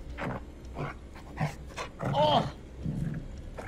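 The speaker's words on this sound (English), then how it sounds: "You kill the dog so he doesn't make the noise." A dog whimpers and pants in the horror video game The Devil in Me, giving short breathy whines and a rising whine in an irregular rhythm over a low game backdrop.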